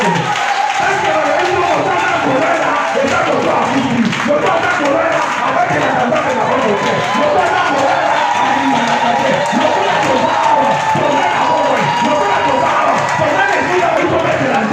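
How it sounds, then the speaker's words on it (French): A church congregation cheers and acclaims God loudly and continuously, a dense crowd roar of shouts and clapping with voices mixed in throughout. "Je veux que tu acclames ton Dieu avec toutes tes forces"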